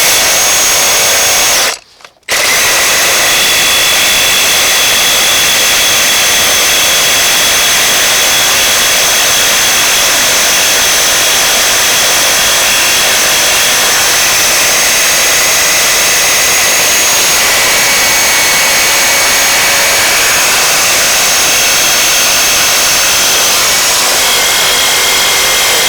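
A Milwaukee M18 FUEL Super Sawzall cordless reciprocating saw on a 12.0Ah battery cuts without bogging down, giving a loud, harsh, continuous buzzing roar with one brief stop near the start, then steady cutting with no talking.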